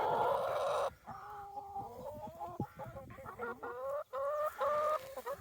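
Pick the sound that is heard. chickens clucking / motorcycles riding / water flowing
chickens clucking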